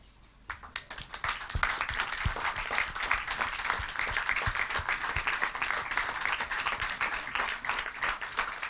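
An audience in a hall applauds women working in Indian aviation, a dense burst of many hands clapping that starts abruptly and continues steadily at moderate level.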